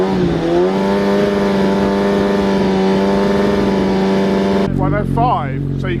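A motorcycle engine is held at a steady 6,000 rpm for an exhaust noise test, a loud, even, sustained drone close by that cuts off abruptly near the end, followed by a short burst of talk.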